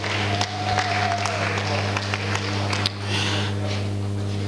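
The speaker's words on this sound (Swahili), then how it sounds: "Shangilia Yehova kwa makofi." A church congregation clapping during a healing prayer service, a dense continuous patter of many hands, with voices mixed into the background throughout.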